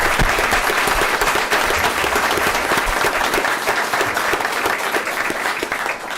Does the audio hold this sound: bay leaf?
no